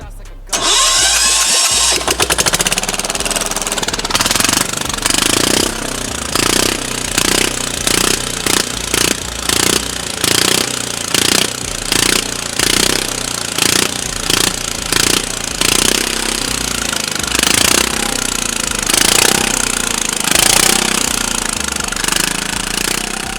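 A diesel engine fitted into a small microcar cranks and catches, then runs with a loud, rough, rhythmic knocking clatter that pulses steadily close by for over twenty seconds.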